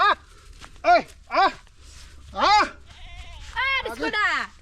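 A goat bleats repeatedly at close range, several wavering cries spaced a second or so apart, the later ones longer and more drawn out.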